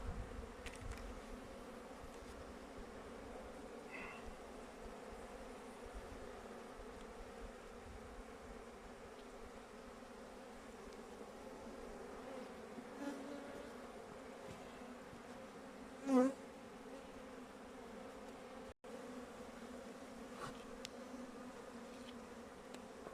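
Honeybees hum in a dense, steady drone around an opened beehive during a February colony inspection, a continuous close buzz with no talking.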